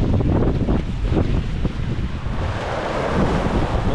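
Strong wind roars across the microphone aboard a sailboat running downwind at sea in about 18 knots of apparent wind, a loud continuous buffeting rush mixed with wave wash and no voices.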